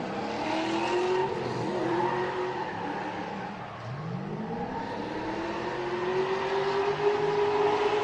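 Grassroots qualifying race car running close to the wall with its bumper knocked off and dragging, engine droning with rising and falling pitch and a scraping, skidding edge throughout, loud and steady with no talk.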